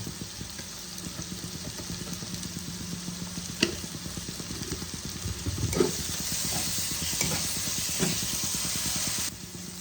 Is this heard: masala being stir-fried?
yes